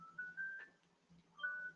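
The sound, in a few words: phone alarm going off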